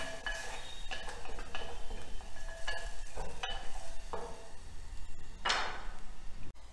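Onion roasting in ghee in a pan while making paneer handi: a soft sizzle under irregular scrapes and clinks of a spoon stirring against the pan, with one louder scrape near the end.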